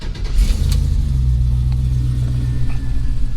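An old car with coilovers all around fires up on the first try without pumping the gas, settling into a loud, steady low idle rumble with a brief rev near the start and no talking.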